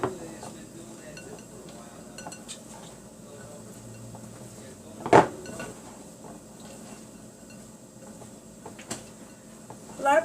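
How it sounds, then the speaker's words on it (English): Raw cauliflower ceviche is being mixed in a bowl with soft, wet stirring and occasional clinks of a utensil against the dish, fairly quiet and close up. "And then I just mix this in really well."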